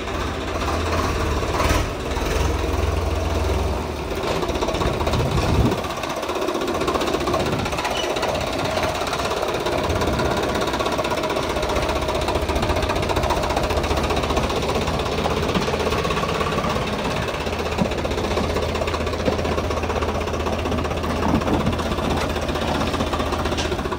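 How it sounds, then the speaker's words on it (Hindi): A Swaraj 855 FE tractor engine chugs and rattles steadily throughout, loud and close, with a rough mechanical knocking and no voices. "इस ट्रैक्टर की एक खास बात ये आवाज़ इतनी शानदार है"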